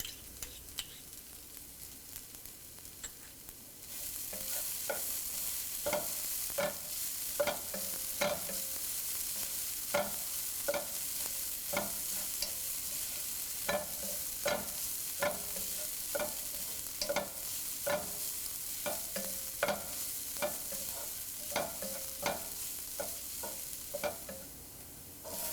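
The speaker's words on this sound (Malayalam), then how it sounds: "ചെറുതായിട്ട് കട്ട് ചെയ്ത് വെച്ചിരിക്കുന്ന ഇഞ്ചി, തിന്നായിട്ട് കട്ട് ചെയ്ത് വെച്ചിരിക്കുന്ന പച്ചമുളക്, വെളുത്തുള്ളി എന്നിവയിട്ട് വഴറ്റുക." Chopped ginger, green chilli and garlic sauté in a pan with a constant soft sizzle, while a spoon scrapes and taps the pan in a regular rhythm of sharp clicks, close and with no talking.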